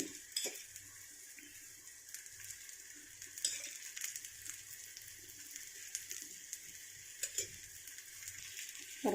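Ragi and drumstick leaf adai frying in oil in a kadai, with a soft steady sizzle and occasional clinks of a utensil against the pan, heard up close with no talking.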